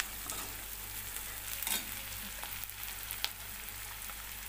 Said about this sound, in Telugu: కట్చేసి పెట్టుకున్న పచ్చిమిర్చి ఆనియన్స్ దీన్ని ఇప్పుడు వేయించుకుందాం మంచిగా